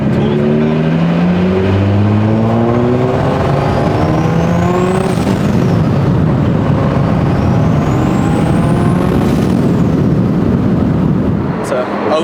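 A 2003 Nissan 350Z with a big turbo and built motor accelerating hard through the gears, rising engine tones climbing and dropping with turbo whine and whooshes, loud and close, over wind and road roar.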